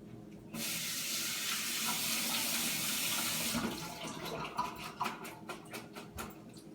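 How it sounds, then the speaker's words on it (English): A tap runs steadily for a few seconds, then stops, followed by wet clattering and rustling as Brussels sprouts are shaken and handled in the sink. "now I'm going to rinse my Brussels sprouts"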